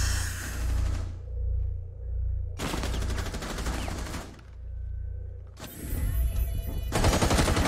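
Bursts of rapid gunfire from the video game Rainbow Six Siege come in several loud volleys separated by short lulls, with a low rumbling bed underneath.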